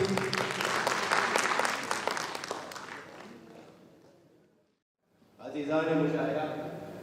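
Audience applause at a mushaira welcomes a poet to the stage, a dense burst of clapping that fades out over several seconds before a voice begins speaking.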